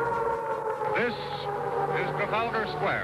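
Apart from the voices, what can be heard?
air raid sirens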